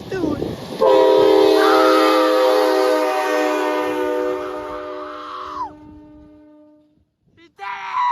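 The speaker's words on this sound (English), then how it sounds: "That one got a train horn." A semi truck fitted with a train horn lets out one long, loud chord blast that holds for several seconds and then fades, followed by a brief second toot near the end.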